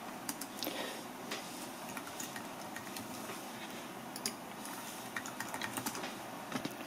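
Someone types a password on a Mac keyboard, a scattering of light, close key clicks over a steady low background hum, with no voices.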